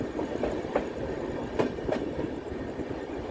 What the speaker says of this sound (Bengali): ট্রেন ঢুকছে তার দ্বিতীয় হল্ট বোলপুর শান্তিনিকেতনে